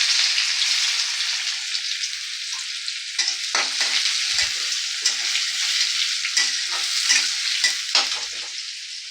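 Chopped onions sizzle steadily in hot oil with cumin seeds, bay leaf and dried chilli, a loud continuous frying hiss broken by scraping stirs with a spatula, close up with no talking.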